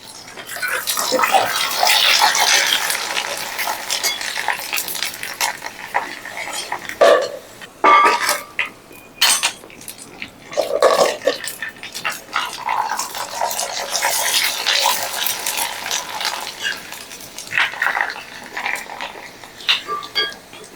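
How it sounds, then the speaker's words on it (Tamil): Ground sago vada frying in hot oil, giving a steady broadband sizzle with brief bursts and clinks of utensils against a pan, heard up close with no one talking. "இப்போ இந்த ஜவ்வரிசியை பொரிச்சு காட்டுறேன் பாருங்க"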